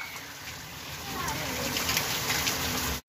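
Steady rain pouring onto rooftops during a rainy-day outing, a dense continuous hiss close by that stops abruptly at the end.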